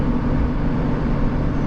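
A Toyota Tundra engine labours while towing a maximum load up a 6% grade, giving a steady, dense low rumble that stays constant from start to finish.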